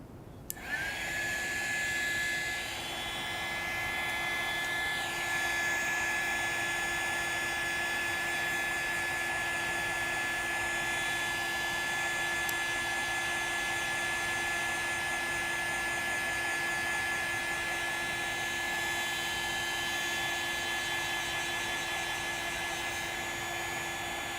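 Hair dryer blowing on wet paint on an autumn lake landscape painting, switching on with a click and then running as a steady, loud, high whine and rush close by for the whole stretch.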